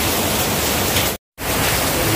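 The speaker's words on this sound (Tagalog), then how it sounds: "Lakas ng ulan." Heavy rain pours down in a dense, steady roar, loud and close, broken by one brief moment of silence midway before the downpour resumes just as strongly.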